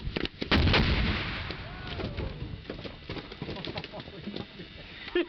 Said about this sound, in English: We built 2 of these scale models and just blew the shit out of them twice.